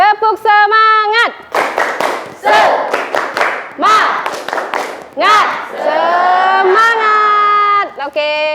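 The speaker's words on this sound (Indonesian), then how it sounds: "Oke, tepuk semangat." Children's group spirit clap and chant: a leader's sung call answered by a loud crowd of young voices shouting, with bursts of rhythmic hand clapping between phrases, close and energetic throughout.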